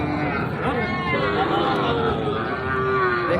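Cattle at a busy Raniganj cattle market low loudly and repeatedly, long drawn-out moos rising over a steady crowd babble and nearby talk.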